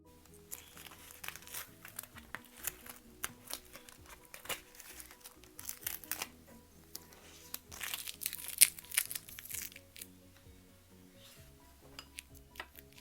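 Tape peeling off a watercolor painting on paper: a string of close crinkling rips and crackles, busiest in the middle, with no talk over it.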